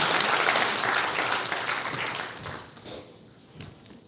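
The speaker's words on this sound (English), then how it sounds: "A round of applause again for Dr." Audience applause at a live broadcast event of the Uganda National Examinations Board, a dense wash of clapping that fades gradually toward the end.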